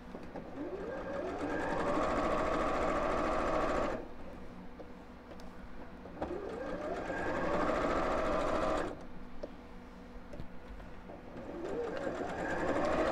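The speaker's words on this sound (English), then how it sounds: "I'm going to sew all the way around, but leave a turning gap in one side." A sewing machine stitches around a pearl bead handle purse in three long running bursts with brief pauses between them, a steady close mechanical hum throughout.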